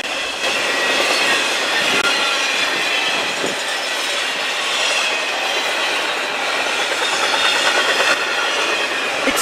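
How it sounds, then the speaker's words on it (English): Freight train led by GE ES44AC and ES44DC locomotives passing a road crossing, a loud continuous rumble and clatter of railcars rolling by up close with some wheel squeal and no talking. "It's still great to see trains pass these two former New York Central signals, even if they're on completely different tracks."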